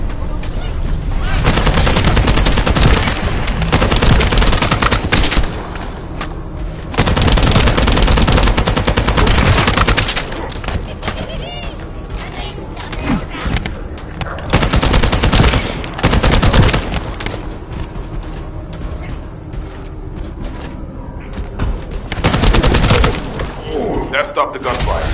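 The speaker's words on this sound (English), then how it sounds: "That stopped the gunfire." Loud, dense automatic gunfire in The First Descendant roars in long sustained bursts, broken by brief lulls, with voices faintly mixed underneath.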